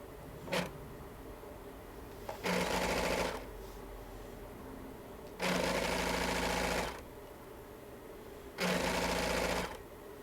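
A sewing machine or serger stitches stretch fabric for a pullover hoodie in three bursts of steady, buzzing mechanical running, each a second or more long and separated by pauses. No one speaks.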